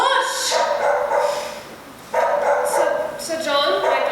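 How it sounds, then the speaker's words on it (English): Excited dogs barking on stage during a school drama production of Sense and Sensibility, bursts of yappy barks and whimpers mixed with people talking over them, close and fairly loud. "Excuse these dogs. They get over excited."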